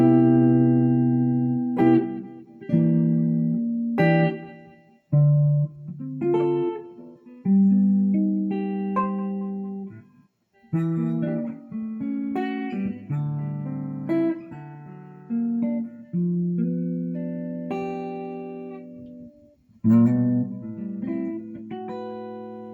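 Ibanez Jem Jr electric guitar played clean, with a run of plucked notes and chords ringing out in short phrases separated by brief pauses, close and fairly loud with no talking.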